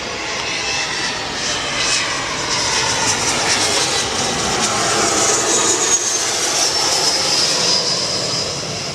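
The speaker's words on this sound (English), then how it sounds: "Here we go, Dassault Falcon." A Dassault Falcon business jet passes at an airport, its engines producing a loud, steady roar with a rising whine that swells and holds for several seconds, heard alone without talk.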